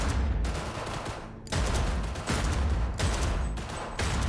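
Continuous rapid gunfire at a shooting range in Cyberpunk 2077 Phantom Liberty, loud dense bursts of shots with brief pauses between volleys.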